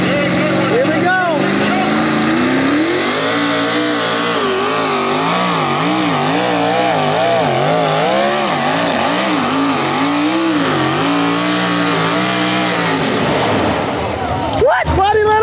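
A tractor with a CVT transmission roaring at a county fair tractor pull, its engine revving loud and close in a wavering, surging drone that drops off near the end; a voice is audible underneath.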